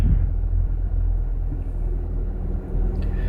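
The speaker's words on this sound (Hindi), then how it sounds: "हमारी गाड़ी स्टार्ट हो चुकी है। अब हम इसे एसी को ऑन करेंगे" A car's engine idles with the air conditioning and fan switched on, giving a steady low rumble and a smooth airy hum that stay constant and close throughout.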